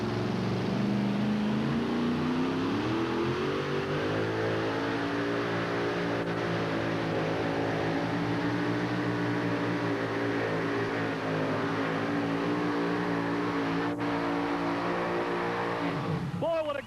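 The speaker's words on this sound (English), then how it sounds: "650 cubic inches of pulling power coming at you right now." A 650 cubic inch two-wheel-drive pulling truck engine roars continuously at a truck pull, a loud, sustained droning howl whose pitch climbs and holds as the truck works the track.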